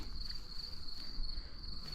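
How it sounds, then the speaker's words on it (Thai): Steady high-pitched cricket chirping fills a garden after rain, continuously, a dense insect drone with faint low background rumble. "เสียงจิ้งหรีดก็ร้องเต็มเลยค่ะตอนนี้"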